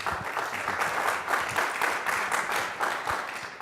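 Steady audience applause at a panel event on security, dense and sustained clapping filling the room without a break, moderately loud and with no talking over it.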